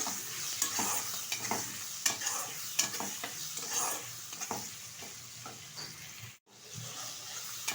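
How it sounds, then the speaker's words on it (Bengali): Shrimp frying lightly in oil in a pan with cumin seeds and turmeric, a steady close sizzle with stirring scrapes throughout and one brief dropout near the end. "হালকা করে চিংড়ি মাছটা ভেজে নেব।"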